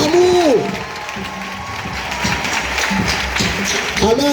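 Crowd at a parish evangelization campaign applauding and cheering, sustained clapping mixed with shouts and voices, with a brief sung or spoken tone at the start and end.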